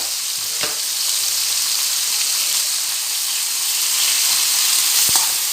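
Pollock fillet and vegetables frying in a hot pan while being stirred together, a continuous loud sizzle and hiss with a few faint scrapes of the utensil.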